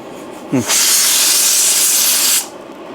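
A pressure cooker cooking egg biryani lets out one loud, sustained whistle hiss of escaping steam lasting about two seconds, preceded by a brief rising whistle.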